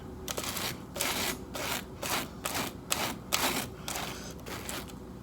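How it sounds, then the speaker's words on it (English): A knife spreads butter across crunchy toast in a run of faint, rhythmic rasping strokes, each scrape quickly following the last. "you know it's good toast when it makes that sound"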